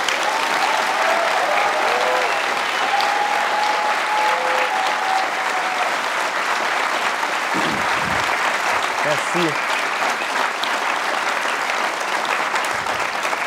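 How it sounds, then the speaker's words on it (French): Audience applause for Jay, a dense, steady clapping from a studio crowd that continues throughout, with a voice briefly speaking over it. "J'aimerais ça qu'on donne une bonne main d'applaudissement à Jay,"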